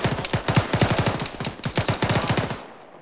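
Rapid automatic gunfire in the military shooter ArmA 3, a steady string of sharp, evenly spaced shots in short bursts, loud and close, cutting off at the end.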